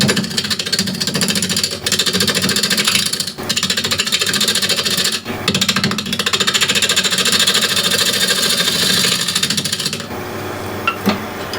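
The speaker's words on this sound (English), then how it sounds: "spindle gouge" A spindle gouge cuts dry Osage orange on a wood lathe, giving a loud, continuous rough scraping and chattering with brief dips where the tool lifts off, ending in a quieter tail.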